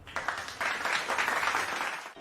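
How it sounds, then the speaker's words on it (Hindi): A burst of crowd applause dropped in as a sound effect over BGMI mobile battle royale gameplay, a dense, close clapping roar that swells and ebbs before cutting off. "तो मेरे लिए गाइस हो जाए अभी तालियां।"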